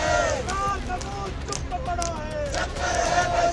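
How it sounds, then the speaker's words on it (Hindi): Hundreds of protesters chanting Jai Shri Ram slogans while marching toward the Sanjauli mosque in Shimla, a loud sustained massed chant of rising and falling voices over wind and crowd rumble. "सैकड़ों की भीड़ जय श्री राम का नारा लगाते संजौली मस्जिद की तरफ बढ़ने लगी"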